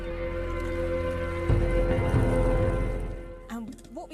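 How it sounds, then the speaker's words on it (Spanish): Simulated heavy rain falls on a miniature model of the Atacama desert surface, a dense steady hiss of water over a low rumble, followed by a brief burst of talk near the end. "Lo que veremos aquí es una demostración en miniatura de qué es lo que ocurre si empieza a caer una gran cantidad de lluvia."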